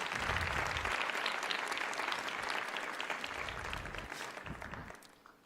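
At a learner leadership summit, an audience of delegates applauds in a dense, even burst of clapping that holds strong before gradually thinning and fading away near the end.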